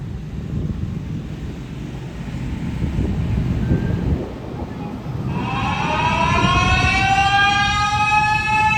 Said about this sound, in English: Soon the sirens rang.